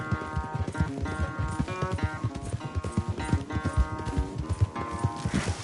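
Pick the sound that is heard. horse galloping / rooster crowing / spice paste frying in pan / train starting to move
horse galloping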